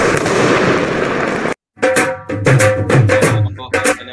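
Firecrackers and fireworks played as a welcome effect: a dense, loud crackling barrage for about a second and a half, then a brief silence before further bangs and pops mixed with tonal sounds.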